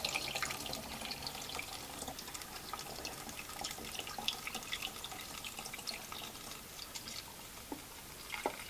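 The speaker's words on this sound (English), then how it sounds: "So let's pour back our Blix." Blix color film developing chemical being poured back into its container: a soft, steady trickle and splash of liquid, faint and close, running continuously without talk.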